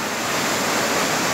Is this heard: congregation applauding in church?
no